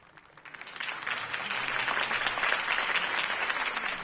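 Crowd applause for a mayoral campaign speech in Batman The Telltale Series, starting quietly, then swelling within the first second into a dense, steady wash of many hands clapping that stays full and even to the end.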